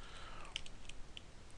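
A computer keyboard is tapped softly for a few keystrokes, faint and close, with quiet isolated clicks and no talking.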